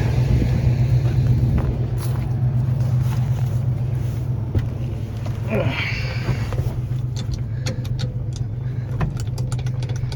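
A GMC Sierra 1500 squarebody truck engine that has been sitting a while cranks with a steady low mechanical drone throughout, close and continuous, and a few faint clicks appear late on.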